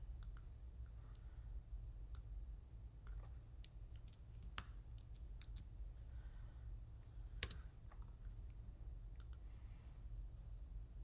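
Computer keyboard typing mixes with mouse clicks in a quiet room: sparse, irregular taps and sharp clicks, close and fairly soft, with no one speaking.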